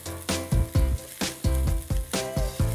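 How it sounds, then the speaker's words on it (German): Sliced onions hit a pan of browning fried potatoes and sizzle loudly, with a rhythmic pattern of stirring or scraping bursts repeating through the sizzle. "Jetzt geben wir die Zwiebeln ganz zum Schluss mit dazu."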